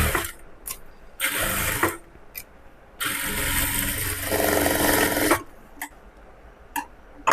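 A sewing machine stitching a cross-cut blouse runs in two bursts, a short one and then a longer, steady whirring run, with quiet handling between them.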